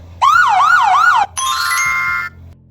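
A siren effect plays loudly in a video edit, first a rising and falling wail for about a second, then a brief gap and a steady two-tone electronic blare, with a low hum underneath.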